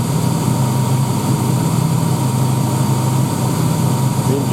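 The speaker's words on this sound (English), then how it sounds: "The engine sounds really quiet, which is good." Daimler 250 V8 engine idling after its first start in 16 years, a steady low rumble with a constant hum, running evenly and close by without any change in pace.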